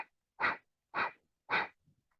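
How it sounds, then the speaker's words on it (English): Three sharp, forceful exhales of kapalbhati yoga breathing, evenly spaced about half a second apart, close and clear against silence, with a faint breath after. "see if you can do a sharp exhale as you draw the belly in"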